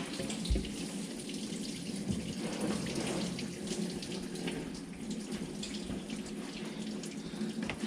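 Coolant pouring from a truck radiator into a drain pan, a steady close splashing trickle of liquid that runs without a break.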